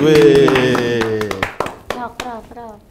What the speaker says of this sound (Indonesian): mari tepuk tangan untuk Yori